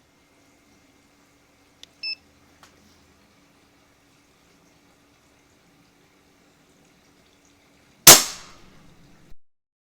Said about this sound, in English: So let's take a look at this trigger pull.